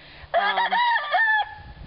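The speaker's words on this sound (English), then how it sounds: "It's really nice to have chickens. Listen to them. Don't they sound happy?" A rooster crows loudly and close by, a single drawn-out call, with faint clucking before and after.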